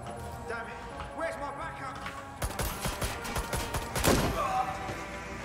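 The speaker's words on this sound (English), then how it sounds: "Use a shotgun." Shotgun blasts in Watch Dogs Legion, loud sharp reports cracking in quick succession amid a chaotic firefight, with a burst of several shots midway and heavier booms toward the end, voices audible underneath.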